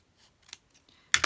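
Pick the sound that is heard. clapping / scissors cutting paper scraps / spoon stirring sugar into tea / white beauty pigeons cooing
scissors cutting paper scraps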